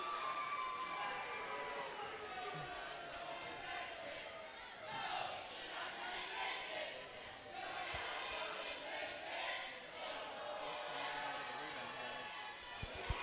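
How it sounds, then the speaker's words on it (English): A high school basketball crowd in the Angola gym claps and cheers as a player comes off the bench, a broad, fairly distant roar of hands and voices that swells and eases, with a commentator talking over it. "It's a nice hand from the Angola crowd."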